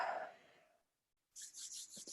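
Palms rub briskly together in a quiet room, a short soft burst of repeated swishing strokes following a fading breath, close and faint.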